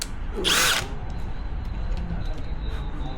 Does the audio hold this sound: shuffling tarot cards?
no